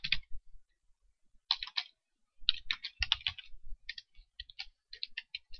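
Quiet bursts of clicky computer keyboard typing, short irregular runs of keystrokes separated by brief pauses, heard up close with no talking.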